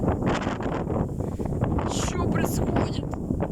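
Strong storm gusts of about 23 metres per second roar across an open field, battering the microphone continuously and loudly while someone speaks over the wind.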